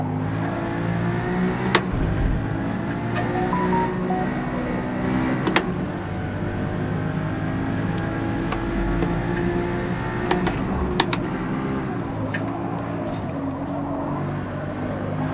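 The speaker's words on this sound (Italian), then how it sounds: "Senti come stridono le gomme" An Audi RS5 in the racing game Forza Motorsport, on road tyres rather than racing tyres, drones with steady engine noise while sharp squeals and clicks cut through intermittently, with faint background sound throughout.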